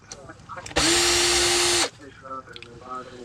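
Power drill backing screws out of the cover of an Albert K BC980SSB radio, one loud steady whir of about a second, with faint talk before and after it.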